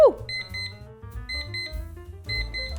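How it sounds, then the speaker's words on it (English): An hour timer beeping in short repeated bursts of high electronic tones, close and fairly loud, with a low hum underneath. "so this is an hour timer"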